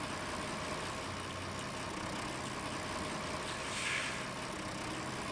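Tractor engine running steadily in Farming Simulator 19, a constant broadband drone with low rumble, heard alone and unbroken throughout.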